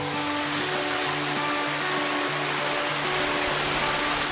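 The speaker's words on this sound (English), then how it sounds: "This waterfall is the closest to the airport and the capital." A waterfall in Taiwan rushes in a continuous, fairly loud wash of falling water, with faint steady tones beneath it and no voices.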